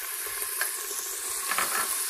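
Meat frying in oil in a cooking pot for a Turkish meat and dried bean stew: a steady, soft sizzle with faint crackles and hiss, close and continuous, with no talk over it.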